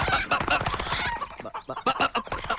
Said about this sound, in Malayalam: കൊല്ലാനുള്ള കോഴിയല്ലേ